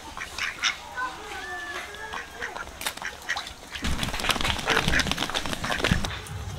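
Ducks quack near a kitchen where vetki fish is being prepared for a curry, harsh repeated calls mixed with clattering and a busy outdoor background, with people talking throughout.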